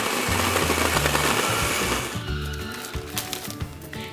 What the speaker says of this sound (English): Then put your lid on, if you need a lid for your blender, and just blend this all up.